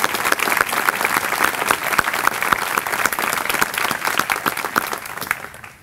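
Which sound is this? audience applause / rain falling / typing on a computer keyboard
audience applause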